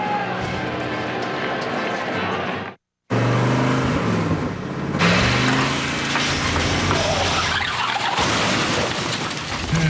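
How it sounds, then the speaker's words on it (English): A car engine revs loudly and unevenly, dropping out for a moment before roaring back and straining on. "I know I heard some engine hesitation as you tried to pass"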